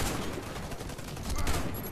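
Rapid bursts of gunfire in the video game Warface crackle in quick succession, a dense, continuous volley without voices.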